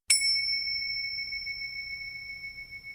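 A single synthetic bell chime from the MindBell mindfulness app strikes sharply, then its bright ringing tones hold steady and fade only slightly over three seconds, alone with no talk.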